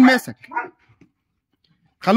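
A dog in training gives short barks and a whimper up close. Brief pauses of near silence separate them, and a voice is mixed in.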